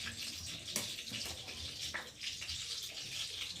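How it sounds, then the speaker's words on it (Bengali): Hot oil sizzling and crackling in a kitchen wok, water mixed into the oil from a reused water bottle, a steady hiss with scattered sharp pops, moderately close. "কড়াতে দিলে তেল চটপট চটপট করে আওয়াজ হচ্ছে"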